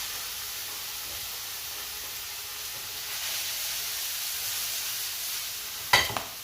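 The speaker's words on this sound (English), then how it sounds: "Lower that temperature and put in the mushrooms." Mushrooms frying in a hot pan after the heat is turned down, a soft steady sizzle and hiss alone, with a sharp clatter near the end.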